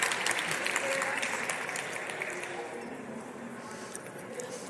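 Audience applause during a talk at The Best You Expo, with clapping that starts strong, then gradually thins and fades across several seconds, the room's crowd close and fairly loud.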